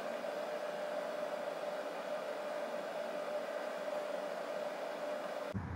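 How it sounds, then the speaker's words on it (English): Internal cooling fan of a Bluetti EB70 external AC power brick plugged into the wall, a steady loud whooshing hum with a constant tone, close and unchanging until it cuts off abruptly at the end. "So you plug into the wall, turns on, and there's an internal fan that's on all the time."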